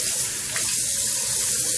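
Cold water runs steadily from a tap into a sink, a loud, even splashing rush that continues throughout with no talking.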